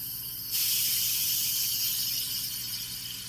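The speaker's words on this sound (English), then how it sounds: "Nice hot steam coming out of there." Steam hisses from a pressure cooker's release valve after rice has finished cooking, bursting on suddenly and then holding as a loud, steady, close hiss with no talking.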